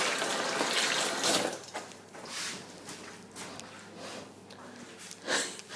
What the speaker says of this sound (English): I'm always washing and cleaning and all that.